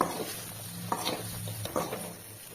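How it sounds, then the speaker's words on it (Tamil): Fried bread is stirred into chilli masala in a pan, a low hiss of frying under a few scraping and knocking strokes of a spoon against the metal, close by. "இப்போ இதையும் நம்ம நல்லா சேர்த்து கிண்டி விட்டுக்கலாம்"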